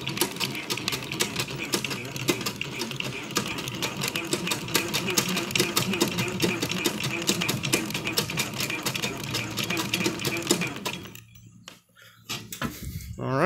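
Treadle-powered sewing machine running steadily, a dense rapid mechanical clatter and whir that holds for about eleven seconds, then cuts out and briefly restarts.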